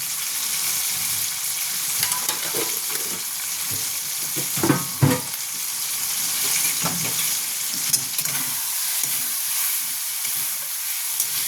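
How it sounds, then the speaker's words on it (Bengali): A masala of ground turmeric, cumin and coriander sizzles and hisses steadily in a hot pan, with scraping stirs and a few louder crackling bursts as it is sautéed, close up and without talking. "এটাকে একটু কষবো"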